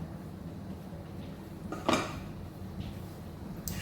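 A lid is set on a cooking pot in a home kitchen, a single clear metallic clatter standing out against faint background noise, with a softer clink following shortly after.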